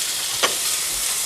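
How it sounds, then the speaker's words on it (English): Zucchini gratin ingredients sprinkled with nutmeg are stirred together, a single short scraping swish near the middle of a quiet kitchen moment, with faint sizzle-like hiss around it. "And we're going to mix it one more time."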